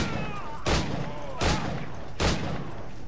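Three sharp, separate pistol shots in Assassin's Creed IV: Black Flag, evenly spaced and fairly close, each a loud crack with a short tail over a quiet background.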